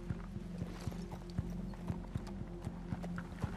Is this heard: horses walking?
yes